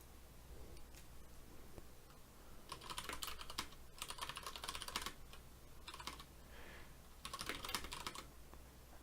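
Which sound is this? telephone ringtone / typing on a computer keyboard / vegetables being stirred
typing on a computer keyboard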